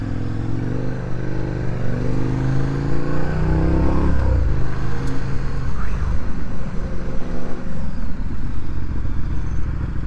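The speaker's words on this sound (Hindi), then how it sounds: "टर्मिनल 3 पे भाई काफ़ी ज़्यादा ट्रैफिक लगा हुआ है।" Dense motorcycle and car traffic near Terminal 3 of an airport in India, a steady loud roar of engines with revving and passing vehicles throughout, close and continuous.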